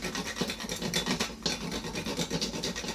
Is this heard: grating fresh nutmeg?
yes